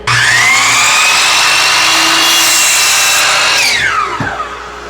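A power saw cuts through a wooden trim piece for a holiday planter, a loud steady whine through the wood that winds down and fades out near the end.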